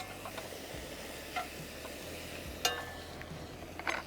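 Vegetables sizzling and caramelizing in meat fat in a pan while car camping, a steady close hiss with occasional stirring clicks and scrapes, no talking.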